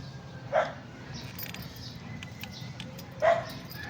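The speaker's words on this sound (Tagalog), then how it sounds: "Kasi may aso." Two sharp, distant dog barks, a few seconds apart, over a quiet background hum.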